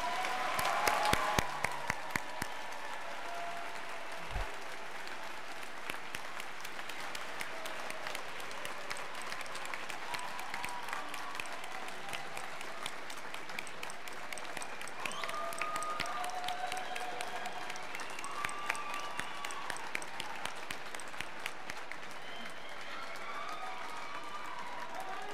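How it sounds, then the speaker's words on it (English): Audience applause fills a graduation ceremony for the 2010 Weatherhead graduates, with dense, sustained clapping from a large crowd that stays steady for the whole stretch after a louder opening burst. "A round of applause for your parents"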